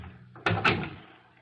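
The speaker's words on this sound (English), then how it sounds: "Close the door." Office door being closed, a quick pair of wooden knocks as the door swings shut and latches, close and moderately loud, fading into a soft room tail.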